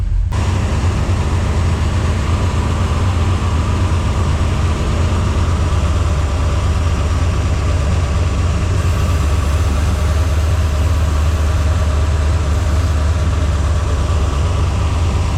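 A 1967 Pontiac Tempest engine with a double-pumper carburetor idles high at 1,000 rpm, steadily with a constant low rumble and hum, close and unchanging throughout, no voices.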